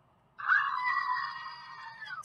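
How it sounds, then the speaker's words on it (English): A screaming goat sound effect rises abruptly from silence into one long, loud, nasal bleating scream that sustains for nearly two seconds before trailing off. "One more time for the screaming goat."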